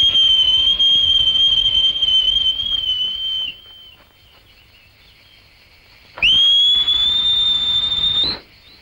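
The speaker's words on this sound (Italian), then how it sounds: "Basta che faccia un fischio." A piercing, sustained high whistle, blown by a person, holds for several seconds, stops, then returns just as loud for another couple of seconds.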